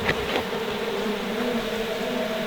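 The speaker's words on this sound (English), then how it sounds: "we've got a few bees left in here" Honey bees buzz steadily around a hive box after being rescued from an orange tree, a continuous close drone with no talking.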